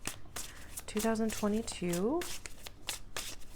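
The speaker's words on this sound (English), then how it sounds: "We'll shuffle with a little more intention here." Tarot cards being shuffled at close range, several quick riffling bursts with a papery flutter, while someone talks over them.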